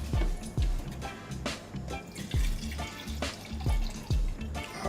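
Water poured into a blender splashes and drips in irregular bursts close by, with gurgling liquid sounds and low thumps throughout.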